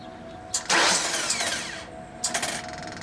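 A Genie lift engine cranks from the ground with a loud starter whir that runs for over a second without catching, then a second shorter cranking burst follows, close and loud.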